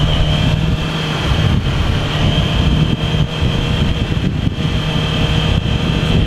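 Steady motorcycle exhaust drone while riding, continuous and fairly loud, mixed with wind rush over the microphone, no talking.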